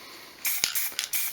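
Aerosol spray paint lands on a vintage oil can in short hissing bursts, a few quick sprays with brief pauses between them, close and fairly quiet.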